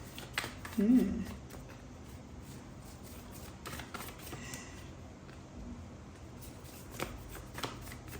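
Tarot cards shuffled and picked by hand, soft papery riffles and flicks, faint and close, with someone talking quietly over them.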